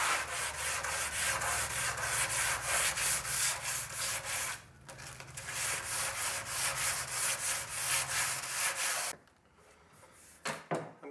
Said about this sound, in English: I'll give it just a touch with a sanding block and some sandpaper